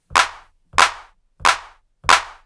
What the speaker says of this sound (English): We've got a clap.